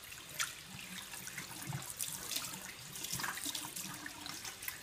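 Water runs steadily from a faucet into a sink while a young child cleans it, a continuous splashing wash with small bursts, fairly close and moderately quiet, with no talking.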